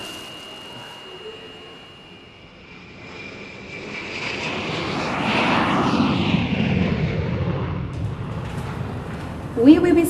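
An airliner takes off from Chiayi Airport, heard from inside the cabin: a broad engine roar swells steadily louder over several seconds and stays loud and continuous, with a brief sharper burst near the end.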